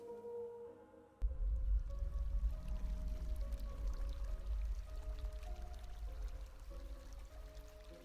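Water in the video game Habromania demo starts with a sudden gush and then keeps pouring and rushing steadily, deep and full, with no voices over it.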